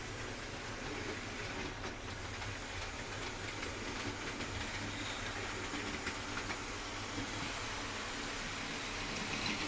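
A model railway train rolls slowly toward its wagons for coupling, a faint steady mechanical rumble with light clicking, no voices.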